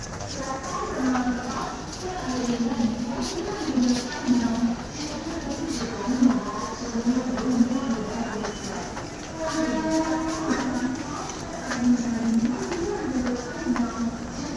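CST slow train at a crowded station platform, a low rumble and rattling carriages beneath people talking throughout.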